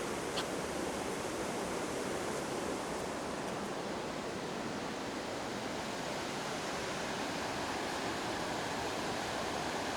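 Rushing river water flowing past a riverside spot near a hotel and bridge, a steady, dense broadband roar that stays constant and fairly close throughout, with no voices.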